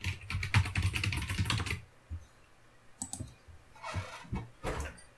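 Close fingers typing quick bursts on a computer keyboard, with dense clattering keystrokes at the start and then sparser clicks separated by short pauses.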